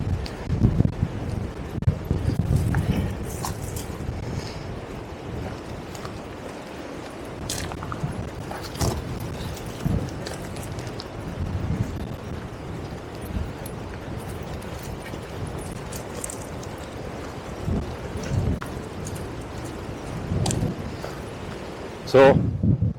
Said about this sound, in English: Heading back into the wind.